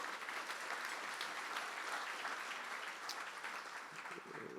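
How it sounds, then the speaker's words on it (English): An audience at an evening awards celebration gives a sustained round of applause for the award winners, a steady, even roar of many hands clapping that holds at a moderate level throughout. "Can we please give another big round of applause to all of our award winners this evening?"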